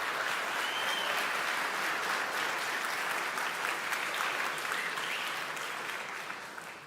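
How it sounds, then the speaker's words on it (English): Sustained applause from a conference audience for a speaker taking the stage, dense and even clapping throughout that tapers slightly toward the end, with no talking over it. "can we give a massive round of applause to Kiryl?"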